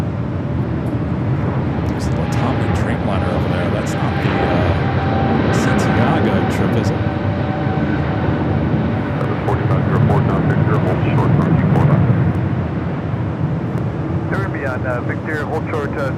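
Jet airliners, including a Dreamliner, rumble steadily at Los Angeles LAX airport, a loud continuous engine roar with people talking over it throughout.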